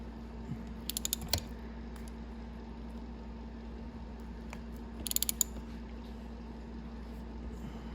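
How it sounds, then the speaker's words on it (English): A 1/2-inch drive ratchet with a 14mm socket turns the pin of a chain riveting tool on a Ducati Panigale chain; two short bursts of quick metallic clicks sound close up over a steady low hum. "I'll take our 1/2-inch drive with a 14mm socket, put it over the end of the riveting pin, start turning clockwise"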